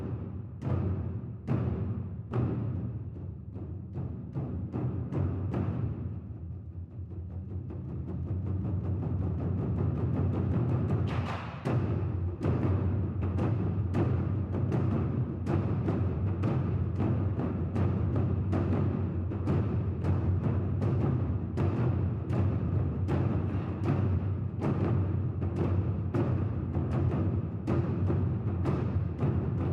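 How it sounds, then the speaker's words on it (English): Drums pound in a steady, dense rhythm of repeated loud hits over a continuous roar, sustained for about half a minute with no speech. "So that was the sound of the drums."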